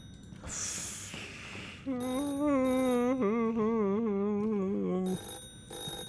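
A telephone rings in a horror video game, a steady warbling electronic ring lasting about three seconds after some soft background noise, then fading into quiet ambience.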